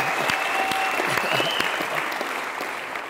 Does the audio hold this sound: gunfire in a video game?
no